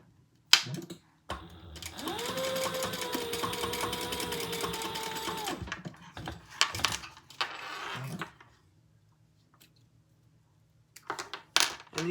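A sewing machine stitches a square ring to a piece of webbing for a leather sling, running in one steady close burst of about four seconds, followed by scattered clicks and handling noises of fabric and hardware.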